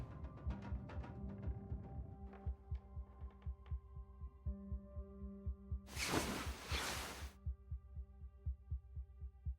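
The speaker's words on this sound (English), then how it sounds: "I heard that little heartbeat in the music." A steady, low heartbeat pulse runs through the background music of the survival game The Long Dark, rhythmic double thumps under a sustained hum, with a brief burst of noise partway through.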